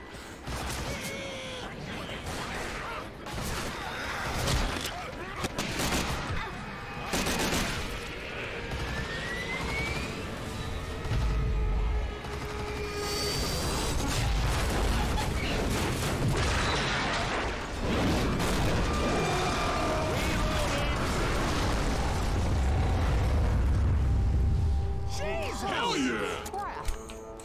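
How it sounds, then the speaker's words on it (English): Booming explosions and crashing, grinding wreckage with whooshes and creaks, loud and sustained, as a plane crashes in Left 4 Dead 2's Dead Air runway finale. "That's a plane crash"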